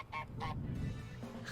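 Geese honking in a co-op video game trailer, several short nasal honks in quick succession over a low rumbling background, moderately loud, with no talking.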